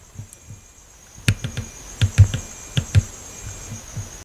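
Uneven keyboard typing, a scattering of soft clicks and taps over a steady electronic hum, no talking.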